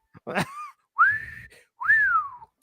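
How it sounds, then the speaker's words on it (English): A person whistles three times: a short two-note whistle, then two longer sliding tones, rising and falling, close and clear with no talking. "give me another whistle. Give me a whistle."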